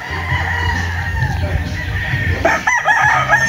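A rooster crows loud and close at a gamefowl farm's chicken coop, one long call filling most of the moment, with a few clucks and shuffling near the end over steady farmyard background.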